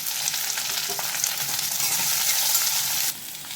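Onion, green chilli and curry leaves sizzle steadily in a hot pan, a dense continuous frying hiss with faint scraping, dropping slightly quieter near the end.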